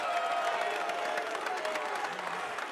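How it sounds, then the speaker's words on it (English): A basketball arena crowd at a Rutgers vs. Wake Forest men's college game applauds in a steady, distant wash of clapping and murmur that continues throughout. "You heard the applause in the background"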